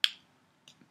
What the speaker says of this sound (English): we're going to click on import,